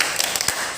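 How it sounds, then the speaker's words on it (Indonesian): A classroom of schoolchildren gives a quick "tepuk salut" clap, a few close sharp claps in a short rhythmic burst, fairly loud in a room with light background noise. "Beri tepuk salut."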